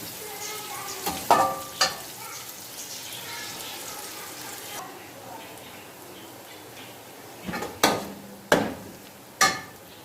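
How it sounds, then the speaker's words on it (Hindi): Onion frying in a pan for masala bhindi, a soft continuous sizzle interrupted by a few sharp clatters and bumps of a utensil against the pan, fairly quiet and close. "अब हम प्याज डालकर इसको फ्राई करेंगे।"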